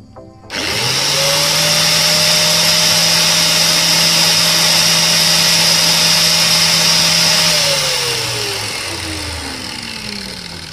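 A Dolis angle grinder fitted with a sanding disc spins up with no load, holding a loud, steady high whine for several seconds before switching off and winding down.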